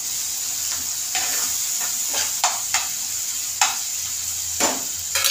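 Onions fry in a pan for a dry prawn curry, a steady close sizzle broken by several scraping stirs and spatula knocks against the pan, with no voices.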